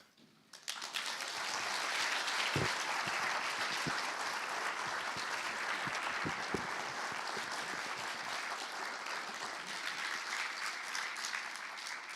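Audience in a lecture hall applauding after a professor's inaugural address, clapping swelling up quickly after a quiet moment and then continuing as a sustained, even wash of many hands with a few sharper claps up close.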